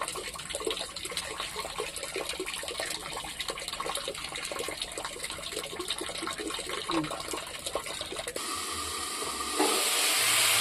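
Water runs steadily from a tap over fish being gently rinsed, a continuous splashing hiss that turns into a louder, brighter rush near the end.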